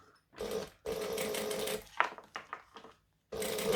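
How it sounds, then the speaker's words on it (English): Home sewing machine stitching around the open edge of a fabric wristlet, loud steady whirring bursts that stop and restart, with a short broken stretch of uneven stitching in the middle. "Lift up the needle and we're going to stitch"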